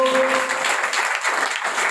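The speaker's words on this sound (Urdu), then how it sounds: "آئیں یسوع کے لیے تالیاں بجائیں" Church congregation clapping together during a pastor's sermon, a steady dense patter of many hands at close range, continuous for the whole stretch without a break.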